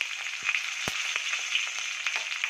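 Garlic, ginger, green chillies, peppercorns, cinnamon and cloves sizzle in a hot pan for a vegetable biryani. The hiss is steady and close, broken by a few sharp crackles and pops, and no one speaks.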